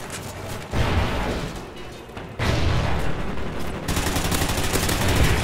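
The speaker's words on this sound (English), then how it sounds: "Helo pilot in the air, blasting cannons like it just don't care." Heavy sustained helicopter cannon fire in a Call of Duty video game, rapid bursts, loud and dense, with short pauses between volleys over a constant roar of engine noise.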